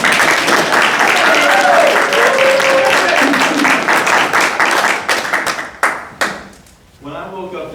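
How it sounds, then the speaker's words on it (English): An audience at a Toastmasters meeting claps loudly and continuously, with voices talking over the applause before it breaks into a few scattered, dying claps. "I see everyone clapping."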